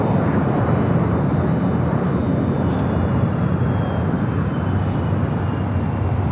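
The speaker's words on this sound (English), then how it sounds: "It's a Gulfstream" A Gulfstream G650 ER jet at LAX produces a loud, continuous broadband engine roar that holds steady throughout, close and dominating, with no voices.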